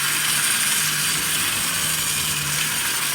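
A clockwork Tri-ang Hornby RS2 toy locomotive runs steadily around a loop of track, giving a continuous close whirring, buzzing mechanical noise with a faint steady hum and no talk.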